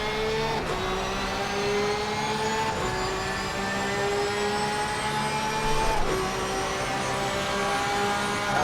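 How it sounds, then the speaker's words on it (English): A Porsche race car's engine howls from onboard during an endurance race at Indianapolis, revving high through its six-speed gearbox with distinct upshifts every few seconds, loud and continuous with no talk. "let's just listen to that, to the beauty of these 6 gears and engine"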